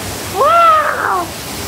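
Niagara Falls heard from behind the falls: a steady, broad roar of falling water, with a short voiced exclamation rising briefly above it midway.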